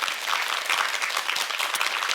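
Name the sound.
audience applause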